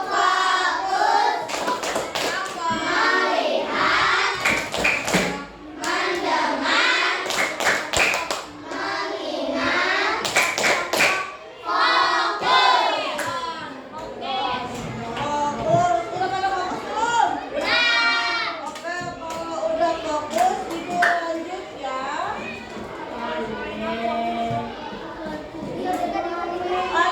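An Indonesian classroom claps the 'tepuk fokus' routine, rapid rhythmic bursts of hand claps mixed with children's chanting voices, loud and close, with a teacher's voice running through.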